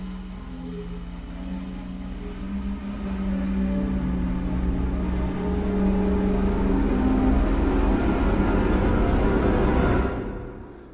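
A swelling sound-effect patch from a sample library slowly rises in volume and density over about ten seconds, a whooshing, engine-like roar that builds steadily, then cuts off abruptly at the end, with no talking.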